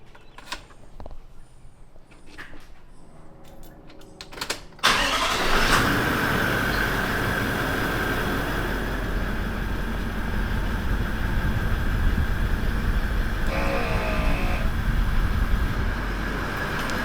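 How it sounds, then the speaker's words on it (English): An onboard air compressor for inflating Land Cruiser tyres switches on after a few seconds of small handling clicks, then runs as a steady, loud, close mechanical drone. "So that was the compressor priming."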